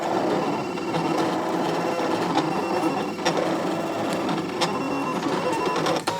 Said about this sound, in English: Just let it follow around, and you can hear those fibers snapping in there.